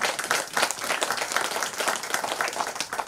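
Audience applause fills a county candidate debate hall, dense and steady clapping from a sizable crowd, loud and continuous throughout.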